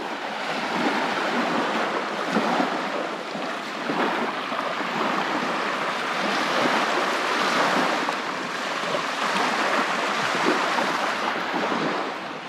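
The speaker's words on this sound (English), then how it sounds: "Clearly high tide this morning, not much of a beach to walk on." Ocean waves washing onto a narrow beach at high tide, a continuous broad roar of surf with gentle swells and no single distinct crashes, with some wind buffeting the microphone.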